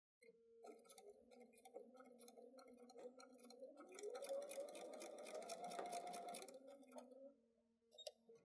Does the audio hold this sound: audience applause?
no